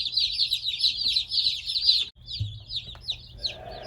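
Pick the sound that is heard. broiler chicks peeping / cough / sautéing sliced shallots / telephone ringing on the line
broiler chicks peeping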